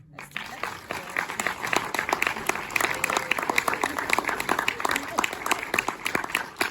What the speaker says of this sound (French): j'ai envie qu'on applaudisse ED Distribution